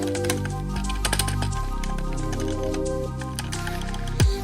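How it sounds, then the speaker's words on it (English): The extra-clicky caps lock key on a membrane gaming keyboard with RGB lighting gives off a series of sharp, close clicks and taps, quiet overall and ending in one louder thump, with no talking. "especially the caps lock key for some reason is extra clicky, just as you can see."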